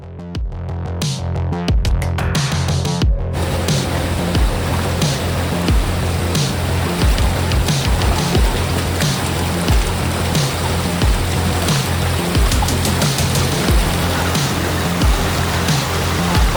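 Kalu waterfall in Malshej Ghat in monsoon flood, a loud, unbroken roar of rushing, crashing water filling the scene, with a brief crackle of handling noise at the very start.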